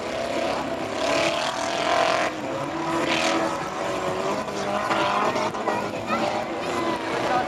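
Stock car entering the track at a race meeting in Saint-Junien, Limousin: engine drone rising and falling through the whole stretch with a few louder surges, heard under an announcer talking over a loudspeaker.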